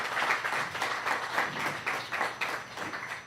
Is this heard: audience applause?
yes